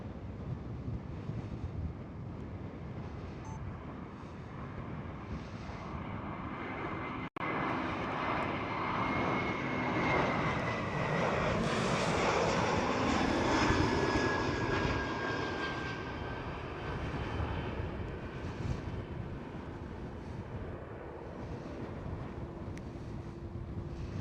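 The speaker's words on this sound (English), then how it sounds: "Fly 1, Airbus A321 Neo." An Airbus A321neo airliner at Schiphol gives off a broad, steady jet engine roar with a rising whine. It swells in the middle as the plane passes and stays continuous, with wind buffeting the microphone.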